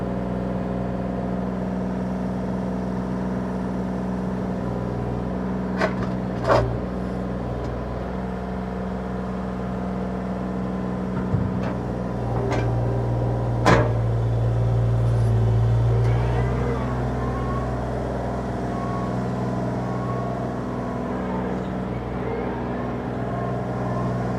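A 2024 Bobcat E35R2 mini excavator with 287 hours runs steadily nearby, its engine a constant mid-pitched drone with a few brief clanks and a short louder surge as the machine works.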